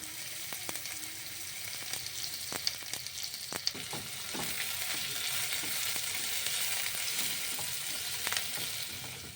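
One large sliced onion fries in hot oil in a wok, a loud continuous sizzle with sharp crackles and occasional stirring scrapes, close up and without talk.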